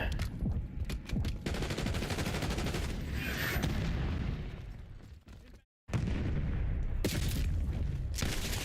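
Light machine gun in Black Ops 6 fires long, dense sustained bursts, loud and close, with a brief silent break near the end before the fire resumes.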